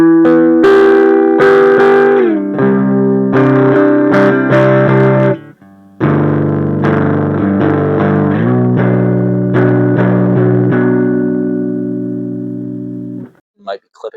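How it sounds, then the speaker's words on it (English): An electric guitar plays loud, distorted chords through a retro radio amplifier turned up to high volume, sustained notes ringing with heavy fuzz before decaying near the end. "that is distortion coming from the guitar input and the speaker"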